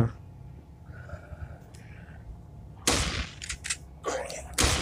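Gunfire in a zombie horror video game set in a graveyard: a few sharp, close shots ring out in quick bursts after a quiet, low rumbling stretch, with faint breathy sounds between them.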